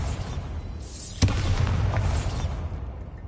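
Bombarda spell blasting a barricaded archway in Hogwarts Legacy on PS5, a sharp crack followed by a rumbling boom that tails off over a couple of seconds, over low ambient rumble.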